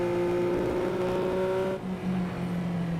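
A motorbike engine idles at low revs in a video game. It gives a steady droning tone that abruptly shifts and drops partway through, as an audio glitch would. It is moderately loud and heard alone.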